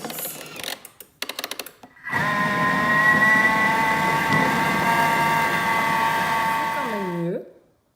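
A Thermomix whirs loudly at speed 10, blending cheese and potato waffle batter in a steady high-pitched motor whine for about five seconds, then winding down with a falling pitch, preceded by brief clicks and handling noises.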